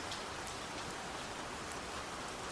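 Steady rain falling in the jungle during a camping trip, a dense even hiss of drops on leaves and surfaces, constant and fairly quiet throughout with no voices.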